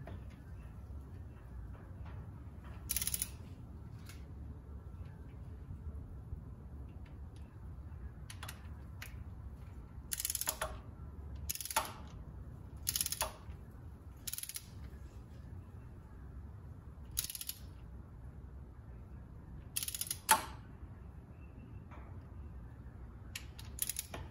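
A torque wrench tightens timing chain tensioner bolts to 18 foot-pounds on a 2008 Cadillac CTS 3.6 engine: sharp, scattered metallic clicks and ratchet bursts come at irregular intervals over a quiet workshop background.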